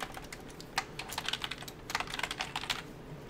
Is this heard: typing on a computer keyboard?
yes